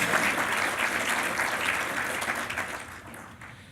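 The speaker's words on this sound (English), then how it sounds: "Let's give our WRA supporters a big round of applause." Sustained audience applause fills an awards gala hall, a dense steady clatter of many hands that gradually thins and fades near the end.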